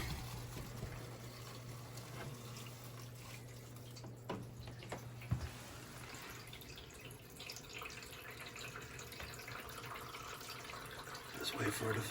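Water pours and trickles into a central air conditioner's condensate drain during a test, a soft running, dripping wash under steady mechanical hum, with a brief clatter midway and a louder splash near the end.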